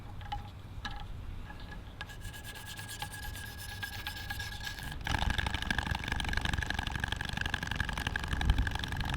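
Knife blade sharpened on a 1000 grit whetstone: repeated rasping strokes of steel on stone, soft at first and then louder and denser, close and alone with no voices.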